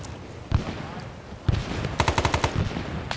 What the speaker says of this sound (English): I think something's shooting at us from across the ridge